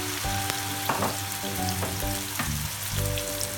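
Apple pieces sizzle steadily in very hot mustard oil for a pickle, a close, continuous frying crackle with occasional stirring clinks of a utensil against the pan.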